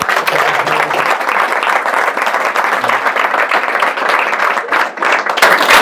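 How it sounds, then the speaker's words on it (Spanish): Audience applause at a live talk event, dense continuous clapping that is loud and close, holding steady for several seconds before thinning slightly near the end. "Un aplauso para Mauricio."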